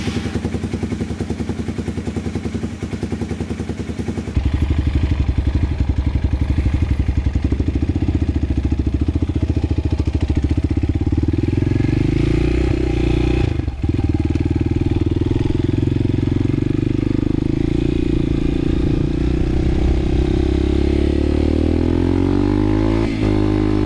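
A CSC TT250 motorcycle engine that has sat unused for several days starts up near the start and runs continuously nearby, settling into a loud idle with rising revs and some mechanical clatter, alone without talk.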